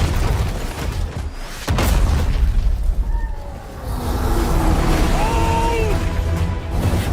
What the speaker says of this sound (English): They got some serious artillery.